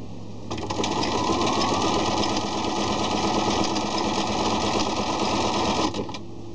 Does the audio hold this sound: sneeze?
no